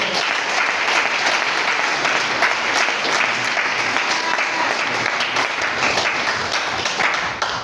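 A church congregation breaks into loud, sustained applause at a ceremony, dense clapping filling the room steadily for several seconds with no pause.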